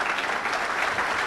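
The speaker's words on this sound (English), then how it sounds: "a major round of applause for the American people waking up at 9/11 Truth" An audience at a keynote address applauds, a dense, even burst of clapping from many hands that fills the whole moment with no voices over it.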